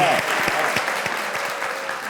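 Applause from a TV talk show studio audience, steady dense clapping with a few sharper claps standing out, fairly loud and close.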